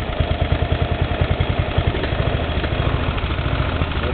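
Briggs & Stratton 11 HP small engine with a carburetor problem runs unevenly. It misfires and stumbles in a rough, pulsing idle rhythm, loud and close, with no voices.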